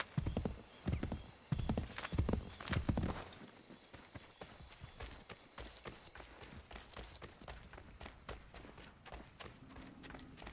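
A horse in Assassin's Creed 3 gallops with rapid, loud clip-clop hoofbeats, then slows to softer, quieter steps. A neigh is heard and faint game sounds run underneath.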